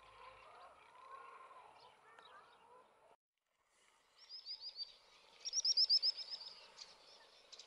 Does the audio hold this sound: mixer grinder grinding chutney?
no